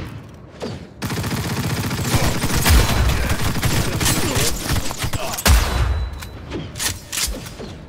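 Sustained bursts of rapid gunfire in Cyberpunk 2077, dense and loud, with a couple of heavier booms mixed in and brief pauses between volleys.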